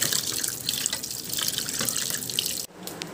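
Fish is rinsed under a steadily running kitchen tap, water splashing loudly and continuously into a sink before cutting off abruptly near the end.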